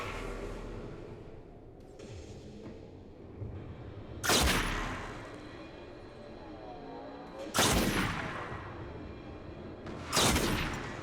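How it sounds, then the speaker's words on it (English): Sniper rifle shots striking infantry in the video game Airborne DUST, three loud sharp cracks spaced a few seconds apart, each with a ringing decay over low background rumble. "So the sniper hits the infantry, who loses almost half his health."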